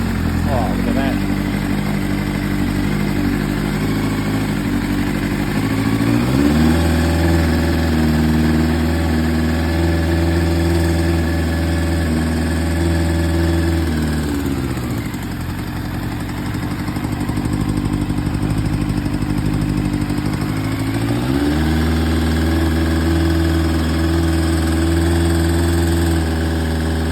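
A Yamaha YZF1000 Thunderace sport motorcycle idles just after its first start following restoration work, a steady close rumbling engine with brief dips in revs around the middle, loud and continuous with no talk.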